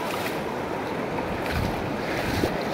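River water rushing around people wading across a river, a steady, loud broadband wash with wind buffeting the microphone, no voices.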